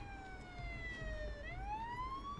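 An ambulance siren from the police patrol video game Police Simulator Patrol Officers wails in a smooth falling then rising tone, steady and fairly faint over a low engine rumble.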